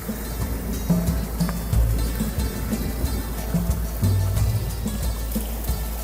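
Water splashes and rushes steadily from a public water feature in Doha, Qatar, a continuous close wash of falling water with no voices.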